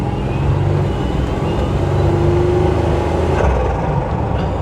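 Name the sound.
Buick Grand National car driving on test run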